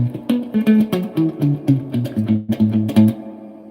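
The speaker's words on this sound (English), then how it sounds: "Let's go back to this real spring reverb." A guitar played through a real spring reverb, with short plucked notes and chords that ring out with a splashy, dripping tail, heard alone and fairly close.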